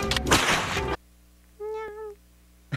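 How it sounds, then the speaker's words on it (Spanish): A single cat meow from the video game Silent Hill rings out clearly after a dense burst of loud noise abruptly cuts off, followed by a brief quiet gap. "¡Miau!"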